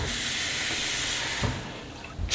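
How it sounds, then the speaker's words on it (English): Water poured from a tap into a small pot, a close, steady hissing rush that stops abruptly partway through, followed by faint clinks and a short bump. "I'm gonna start off by putting in the inch of water into my small pot here."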